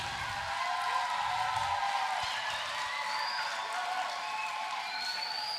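Church-style applause rises from a Sunday school conference crowd clapping for Jesus, a dense, steady wash of hands that holds at an even level from start to finish.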